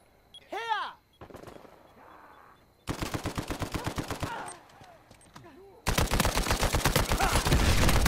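Gunfire in Uncharted 4 multiplayer on PS4, with rapid machine-gun bursts in rhythmic volleys, louder sustained automatic fire toward the end and a few short whooshing game effects in between, no talk.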